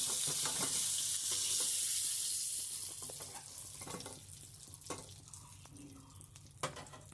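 Potatoes frying in oil left over from pointed gourd, a loud, dense hiss of sizzling that eases after a few seconds into a softer crackle with occasional stirring knocks.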